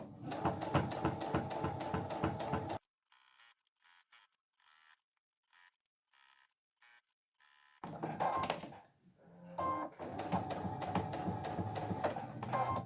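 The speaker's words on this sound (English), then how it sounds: "Now I've got to the other edge of the apron and just secured a back stitch there" A sewing machine stitches an apron string in two loud, fast mechanical runs, separated by a near-silent pause with scattered small handling clicks.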